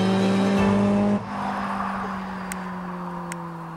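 A Honda sports car engine holds a loud, steady high rev that cuts off abruptly, then settles into a lower, fading drone, with a couple of faint clicks near the end.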